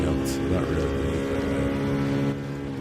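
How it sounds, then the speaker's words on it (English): Loud race car engine in a racing video game at the Daytona track, a constant droning roar with harmonic whine held throughout, with a voice talking over it. "Hang on, that's really loud. The engine sounds."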